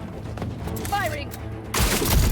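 Enemy gunfire in Marvel's Spider-Man 2 on PS5 breaks out as a loud, close volley late on, following game voices and ambient effects.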